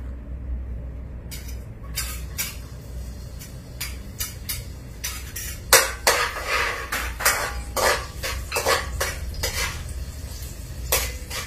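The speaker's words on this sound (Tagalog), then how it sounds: "magigisa tayo ng sibuyas at bawang" Onion and garlic sauté in a pan on a strong burner for Kapampangan binagoongan, with repeated sharp metal spatula scrapes and clanks over a low steady stove rumble and a faint sizzle.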